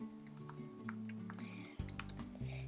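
Someone types a message on a computer keyboard, a close, quick, irregular run of key clicks over a faint hum, with no talking.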